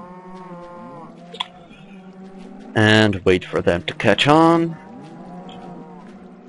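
Cattle mooing in Minecraft, a burst of several overlapping loud moos from a group of cows, set between stretches of someone talking with game background music.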